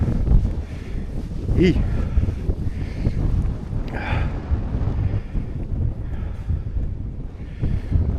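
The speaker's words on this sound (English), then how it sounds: "it's a bit breezy" Breezy outdoor wind buffeting the microphone with a steady low roar and gusts, while people talk briefly over it.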